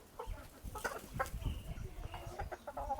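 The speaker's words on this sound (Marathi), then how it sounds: "हे बघा, कावेरी कोंबडा" Kaveri breed rooster clucking among village chickens on a farm, a run of short, loud clucks and squawks in an irregular rhythm, close by and with no talk.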